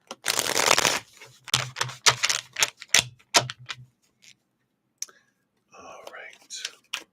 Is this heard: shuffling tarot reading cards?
yes